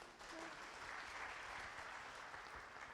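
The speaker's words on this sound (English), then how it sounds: "Round of applause for the question." An audience at a chartered accountancy students' conference claps for a question: an even, continuous wash of many hands, quiet and distant-sounding, with no gaps.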